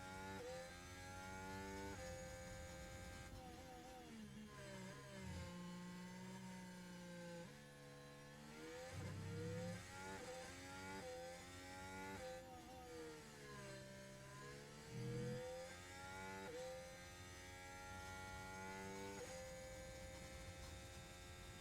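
A racing car in a Dutch Grand Prix video game laps the circuit, its engine whining steadily and rising and falling through gear changes and corners, continuous and evenly loud with no talk.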